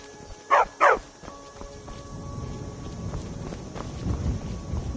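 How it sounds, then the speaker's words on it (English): A dog in the video game Skyrim gives two sharp, loud barks close by, then footsteps and ambient game sounds follow underneath. "Good dog."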